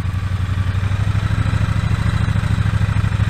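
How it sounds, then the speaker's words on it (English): A vintage Triumph motorcycle engine idles with a steady, deep, rapid pulsing rumble, close and loud, with no other sounds over it. "this bike sounds way meatier and beefier than it actually is"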